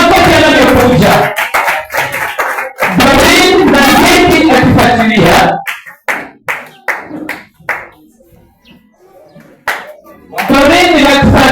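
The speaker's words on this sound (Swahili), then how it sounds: "Makofi yanayokuja." Clapping from guests at a graduation party breaks out in bursts between a speaker's announcements, with loud talk over the claps and a quieter stretch of scattered, individual hand claps in the middle.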